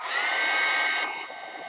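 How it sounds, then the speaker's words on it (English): A craft heat tool blowing hot air onto painted fabric on a mixed media fabric doll, a loud close whirring rush that holds steady and then eases down near the end. "you can heat tool it and then add another layer and it'll darken"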